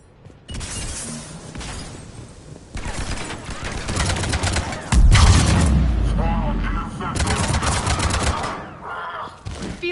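Enemy gunfire in the sci-fi shooter Mass Effect Legendary Edition: loud, close bursts of rapid automatic shots with a heavy boom midway, mixed with voices shouting in combat.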